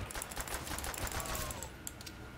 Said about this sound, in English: I have a golden MG42 that has a hideous shooting sound.